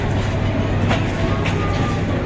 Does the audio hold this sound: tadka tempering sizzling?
no